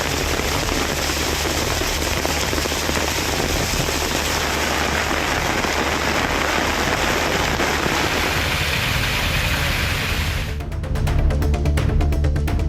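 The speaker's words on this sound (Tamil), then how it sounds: "ஆம்பூர் சுற்றுவட்டாரத்தில் கனமழை பெய்ததால் சாலைகளில் மழைநீர் பெருக்கெடுத்து ஓடியது." Heavy rain pouring around Ambur, with rainwater flooding the roads: a loud, steady, dense hiss of downpour throughout, turning rougher and more splashy near the end.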